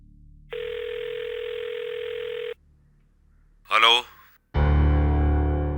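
A telephone rings through the earpiece: a long steady ring tone, a short voice, then another loud ring tone that runs to the end.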